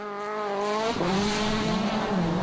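A rally car driven through a sequence of corners at the 2011 Rally Australia, its engine note loud and close, rising, dropping sharply as the driver brakes, then climbing again.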